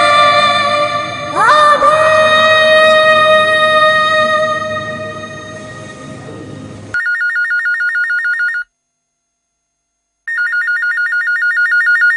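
A telephone rings loudly in a drama scene, a steady electronic ringtone repeating in regular bursts with a short pause between them, following a stretch of music.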